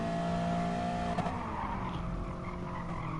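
A touring car accelerates out of a corner at Interlagos in a racing video game, with a loud engine roar and rising revs, a brief tire squeal partway through, and no voices.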